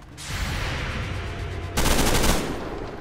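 Dense automatic gunfire in XCOM 2: War of the Chosen, a loud sustained rattle of rapid shots that swells into a heavier burst partway through, with no talking.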